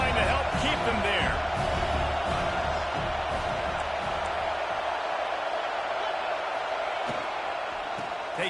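Stadium crowd roar from a college football video game, a steady broad wash of cheering that stays loud throughout, with a commentator talking over it.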